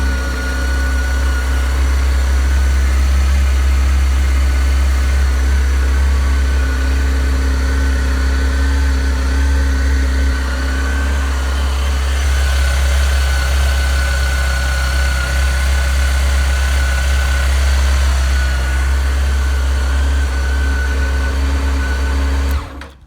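A motorcycle engine sits in neutral and runs at a steady, close, loud idle with a low throbbing hum, no talking, and cuts off abruptly at the very end.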